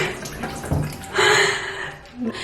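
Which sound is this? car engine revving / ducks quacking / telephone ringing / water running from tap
water running from tap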